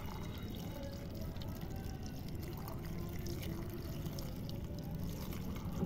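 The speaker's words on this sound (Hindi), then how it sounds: "इस तरह से पानी डाल दीजिए।" Water pours steadily into a container of onion peels, a faint, continuous splashing and trickling that stays even throughout. No one speaks.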